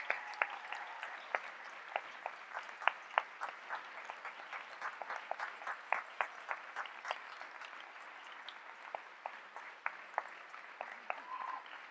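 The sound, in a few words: graduation audience applause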